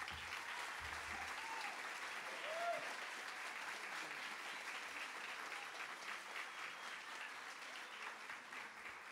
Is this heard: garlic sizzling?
no